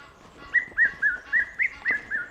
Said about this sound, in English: Oh, red-chested cuckoo.